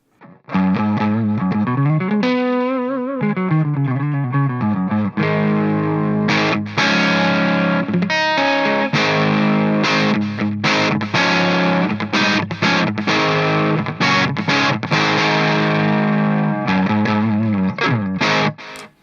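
Electric guitar on the neck pickup played through a Sawtooth Tube Series 5 watt tube amp head, distorted chords and riffs ringing out loud and continuous for the whole stretch, with brief single-note runs between strummed passages and no talking.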